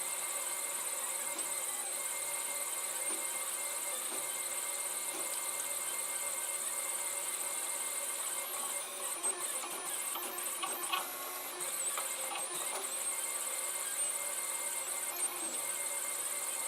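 Continuous faint hiss with light mechanical whirring and soft stepper ticks from a Protomaker 3D printer laying down a raft, steady and unbroken throughout with no voices.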